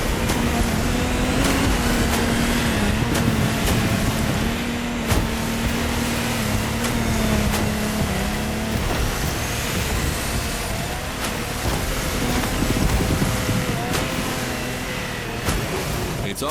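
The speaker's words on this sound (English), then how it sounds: "we're going offshore with way bigger boats, including the incredible Lamborghini Technomar" A Lamborghini Technomar offshore speedboat races on a choppy sea in The Crew Motorfest, its engine a loud, steady drone with a constant hum beneath a broad rushing wash that runs unbroken for the whole stretch.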